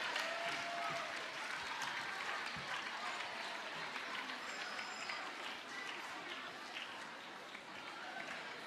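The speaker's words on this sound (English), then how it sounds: "Please keep clapping" Audience at the Girl Child Summit 2023 clapping steadily for a speaker, a dense, even patter of many hands heard from a distance, with faint voices under it.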